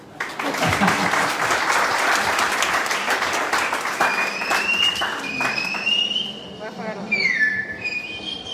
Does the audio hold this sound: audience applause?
yes